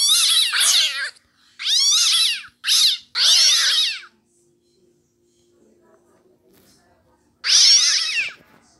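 Cats in a farming video game meow loudly in several close bursts, a cluster of calls, a long quiet gap, then one more meow near the end.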